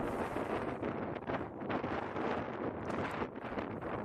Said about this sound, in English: I mean, this wind's really kicking up.